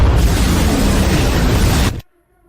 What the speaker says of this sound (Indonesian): Meriam utama daya maksimum.